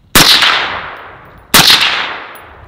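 Two loud suppressed rifle shots fired through a Surefire SOCOM RC2 suppressor, each a sharp crack that decays over about a second, spaced roughly 1.4 seconds apart.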